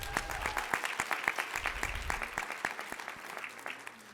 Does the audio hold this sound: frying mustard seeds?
no